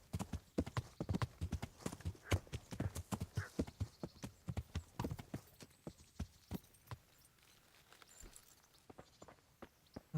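Horse hooves clip-clop at a steady walking pace in the medieval game Kingdom Come: Deliverance, crisp close thuds in an even rhythm that thin out and fade toward the end.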